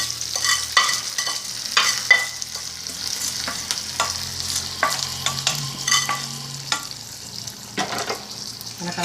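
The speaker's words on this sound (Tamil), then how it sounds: "கடுகு பொரிஞ்சதும் இந்த கருவேப்பிலையும் பொரிச்சிடணும்." Curry leaves and mustard seeds fry in hot oil, giving a crackling sizzle close by with frequent sharp scrapes and clinks as a spoon stirs through them. The rhythm is irregular, and no one speaks.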